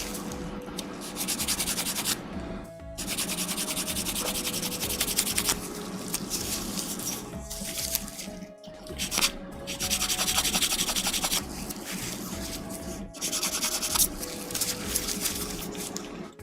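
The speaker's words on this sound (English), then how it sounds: "I sanded so much with this" A plastic gunpla model part is sanded by hand, producing steady, close scratchy rubbing strokes in long runs with brief pauses. No one speaks over it.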